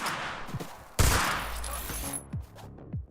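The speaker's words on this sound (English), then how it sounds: "That burst rifle is singing a deadly tune" Rapid bursts of rifle fire in the online shooter Bullet League, sharp loud cracks with a heavy crash near the middle and scattered shots and game effects around them.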